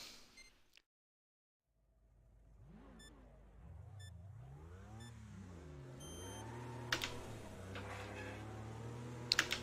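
A four-wheel-drive car in the racing game Wreckfest pulls away, its mid-pitched engine climbing and falling through gear changes and building to a steady, loud drone, with short electronic beeps near the start and crashes of impact toward the end.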